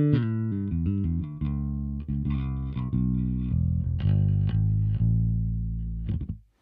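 Bass guitar run through a Boss OC-5 octave pedal, a thick, fuzzy line of quick plucked notes with a heavy low octave, ending in a brief decay to silence.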